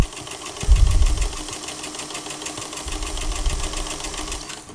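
Sewing machine stitching dress fabric runs with a steady, close mechanical whir and rapid needle chatter, plus a low thump near the start as it starts up again.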